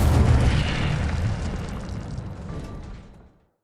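A fire spell blast from Incendio in Hogwarts Legacy: a loud, broad whooshing burst of flame that fades out over about three seconds with no voice.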